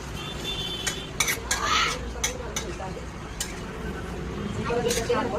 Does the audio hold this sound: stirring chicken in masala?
yes